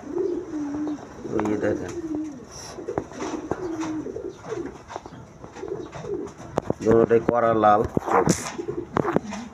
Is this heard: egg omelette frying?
no